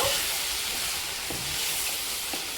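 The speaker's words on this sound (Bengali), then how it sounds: "কাঁচা লঙ্কা বাটা দিয়ে দিলাম চিলি ফ্লেক্স দিয়ে দিলাম এবার আমি ভালো করে কষিয়ে নেব" Chicken gravy with green chili paste and chili flakes sautéing over a low flame, a steady close hiss and sizzle with a few faint stirring scrapes.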